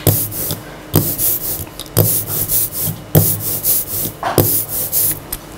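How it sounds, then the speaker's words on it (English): Rubber ink roller rolling out printing ink on a slab, a rhythmic sticky crackling ch-ch-ch swish repeated roughly every second, close and loud with no talking. "So you hear that like ch-ch-ch-ch sound? That's sort of the sound of telling us that we have just the right amount of ink."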